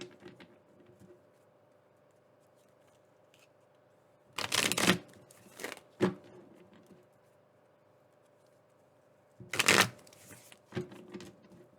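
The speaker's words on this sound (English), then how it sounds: "You can fast forward through the shuffle." Tarot cards are shuffled in two brisk bursts of riffling and patter, separated by quiet stretches with a faint steady hum.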